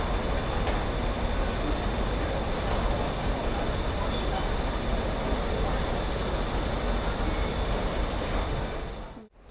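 A busy, steady wash of crowd and machinery noise with a constant high whine on a KCR railway station platform in Hong Kong; murmured voices blend into the din.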